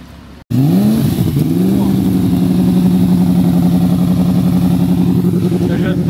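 An Audi R8 and a Mercedes SLS pull away hard in stormy conditions, a loud rising engine roar after a brief silence, settling into a sustained, steady drone close by, with a voice speaking over it.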